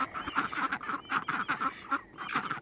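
Ducks quack and honk in a busy cluster of calls on a snowy farm, the cries coming close together in repeated bursts at moderate volume, with no talking.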